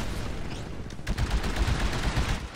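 Rapid gunfire in the Titanfall video game, a dense burst of automatic shots rattling in quick succession at moderate loudness, with no talking.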